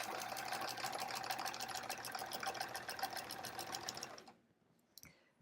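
Sewing machine stitching in the ditch on a quilt, running at a fast, steady whirring rattle up close for about four seconds, then stopping abruptly, followed by a faint click.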